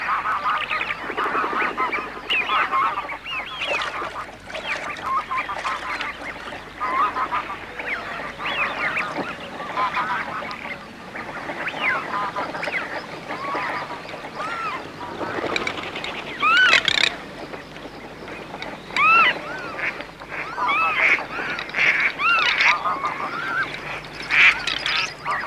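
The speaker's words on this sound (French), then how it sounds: "Les oies cendrées, en cette fin de mars, arrivent tout juste d'Andalousie." A flock of greylag geese honks in a late-March marsh, many overlapping calls rising and falling continuously, fairly close and busy with no speech.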